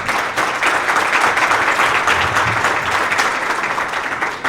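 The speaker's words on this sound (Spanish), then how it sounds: "Un aplauso." An audience at a talk on municipal transparency legislation claps together in steady, dense applause that holds at full strength for several seconds.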